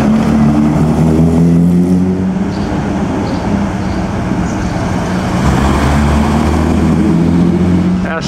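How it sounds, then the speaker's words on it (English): An Aston Martin sports car on the Mille Miglia road race drones past with a steady, loud engine note, its tone shifting slightly as it passes, amid constant roadside noise. "Aston Martin."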